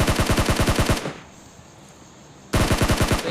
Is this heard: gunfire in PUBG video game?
yes